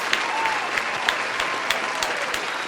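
Round of applause from a group, a steady dense patter of clapping with a few sharper claps standing out, fairly close and even in level throughout.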